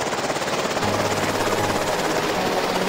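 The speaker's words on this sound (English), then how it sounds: "Is that a fucking drone?" A flying drone in a plush-toy animated scene buzzes with a loud, steady whirring rotor drone for a few seconds, close by and without any speech over it.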